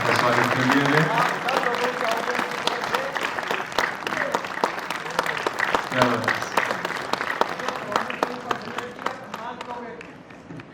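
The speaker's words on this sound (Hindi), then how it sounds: "एक बार जोरदार तालियों से देवेंद्र मदान साहब का स्वागत कर लिया जाए" An audience at a memorial event gives sustained, loud applause welcoming a speaker to the stage, with dense clapping from many people that tapers off near the end and voices mixed in.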